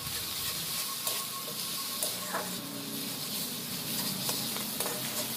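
Salt and turmeric are stirred into hot fish oil in a frying pan. A continuous loud sizzle fills the clip, with occasional soft scrapes of the spoon against the pan.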